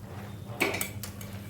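Potatoes dropped into a pot of boiling duck egg curry, a short close clatter of pieces and a utensil knocking against the pot over a low simmering background.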